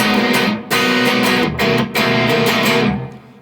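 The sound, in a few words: distorted electric guitar chords, song intro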